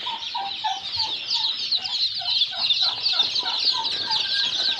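Local chicks chirp continuously nearby in a dense, high-pitched chorus of overlapping peeps, with soft clucking underneath during vaccine preparation.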